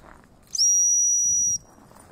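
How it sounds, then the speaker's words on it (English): A dog whistle blown once in a single steady, piercing blast lasting about a second, loud and close, used to call a pack of dogs outdoors, with quiet background rustle before and after. "I'm just going to reach for my whistle."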